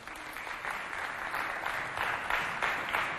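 An audience applauding an artist at a holiday event, many hands clapping in a moderately loud, steady stream with a few sharper individual claps standing out near the end.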